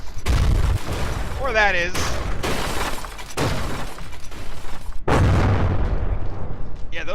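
Naval combat in the From The Depths video game, with secondary guns firing rapid booms and a lightly armored frigate shattering and exploding in loud, dense bursts while a voice speaks briefly over the din.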